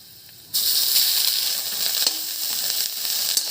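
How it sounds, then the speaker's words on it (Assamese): A sudden loud sizzle bursts out as cooked rice hits hot oil with garlic and green chillies in a wok, then keeps hissing steadily with a few light clinks of a utensil. "এতিয়া কেৰাহীত তেল দি তাত নহৰু আৰু জলকীয়া দি দিলো"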